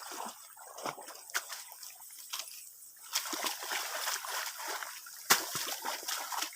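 Rice seedlings being sloshed and washed in water to knock soil off their roots before transplanting, faint repeated splashing and trickling in a wet field with a couple of sharper splashes.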